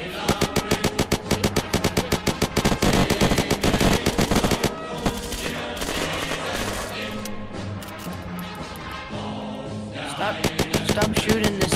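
Automatic gunfire from the video game Unturned rattles out in rapid, loud bursts, breaking off briefly in the middle before the rapid shots start up again near the end.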